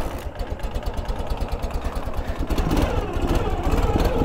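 Motorcycle engine of a long-unchanged classic design being kickstarted and settling into a steady, throbbing idle, close and loud, growing fuller toward the end with no talk over it.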